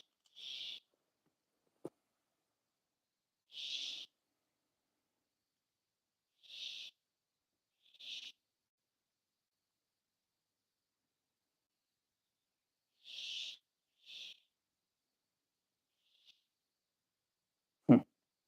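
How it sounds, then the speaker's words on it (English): Wild birds near a mulberry tree give sharp, scattered alarm calls at a nearby cat, short bursts spaced several seconds apart against near silence, ending with a single louder knock. "the birds are like super not okay with the cat playing. They're losing their minds."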